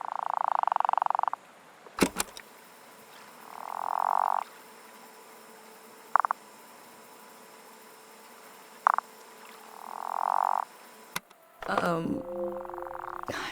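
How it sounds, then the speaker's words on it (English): Frog croaking in the game Season: A Letter to the Future, a few loud, swelling croaks with short sharp calls between them over a steady ambient hum, then a burst of other game sound at the end. "Oh, that's a frog."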